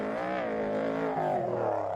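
An off-road race car at an Australian off-road racing championship round drives off, its engine a faint, distant roar whose pitch slides downward as it pulls away.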